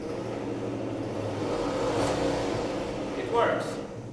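Melex 252 electric car with its motor spinning up as the pedal is pressed, a steady mid-pitched whir under someone talking, with a brief louder burst near the end.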